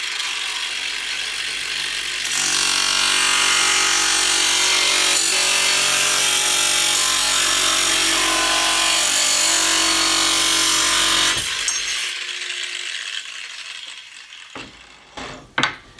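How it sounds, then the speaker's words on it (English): A variable speed grinder on its slowest setting cuts through a stainless steel Schluter profile guided by a wood block, a loud, steady, harsh grinding whine for about nine seconds that then stops, followed by faint handling clatter. "again, variable speed grinder on the slowest setting"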